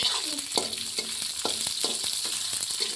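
Onion frying with green chillies in a hot pan, a continuous close sizzle broken by regular scraping stir strokes about twice a second, with no voices.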